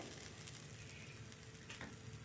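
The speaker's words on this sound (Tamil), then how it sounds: "ஈரம் போக நல்லா ப்ரௌனாக வறுத்துக்கலாம்" Coconut flakes and semolina roast in a pan, making a faint, steady dry hiss with light scraping from stirring. It is quiet and close, with no voices.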